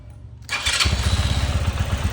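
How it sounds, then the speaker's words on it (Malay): An RFS150i motorcycle engine, started after six months idle and a battery recharge, cranks and catches, then settles into a loud, close, throbbing idle with a steady pulsing rhythm. "kita start dulu motor ni"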